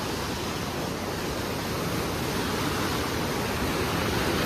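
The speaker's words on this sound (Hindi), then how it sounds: "बहुत भारी लेवल का जो है पानी छोड़ा जा रहा है।" Heavy volumes of water pour through the open gates of the Koshi Barrage, a loud and steady broadband roar of rushing floodwater that holds close and constant throughout, with no voices over it.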